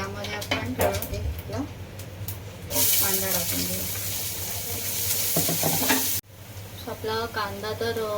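Cumin seeds drop into hot oil over a medium flame and burst into a sudden loud sizzle that holds for a few seconds and then cuts off, with someone talking before and after.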